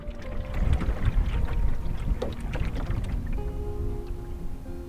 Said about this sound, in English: That was the wind.